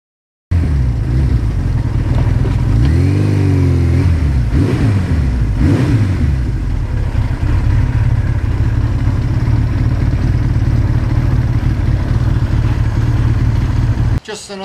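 A 1982 Suzuki GS1100E air-cooled motorcycle is ridden on a fall day, its engine a loud, steady close drone with rising and falling revs and gear changes, dominating throughout before cutting off abruptly.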